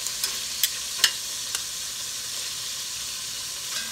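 Beef sears in oil in a stew pot with a steady, close sizzle, broken by a few sharp pops and crackles early on before settling into an even hiss.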